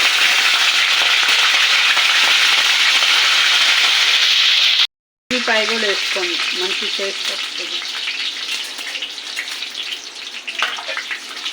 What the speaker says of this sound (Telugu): ఆయిల్ పెట్టుకున్నాను బెండకాయ కూరకి ఫస్ట్ తాలింపు గింజలు వేసుకోవాలి